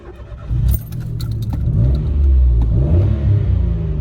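A Citroen C1 small car engine idles, then revs up and holds a steady, rising drone, close and loud, with a brief metallic jingle near the start.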